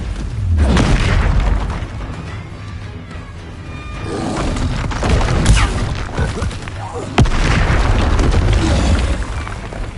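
Explosive Bombarda spell blasts in the video game Hogwarts Legacy, loud booming bursts amid a busy combat mix, with a deep impact near the start, another around the middle and a sharp crack later, over continuous game rumble.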